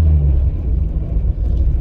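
The Mustard Missile car drives along smoothly, giving a steady low interior rumble throughout with no speech.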